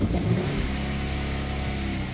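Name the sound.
Ford F-150 engine revving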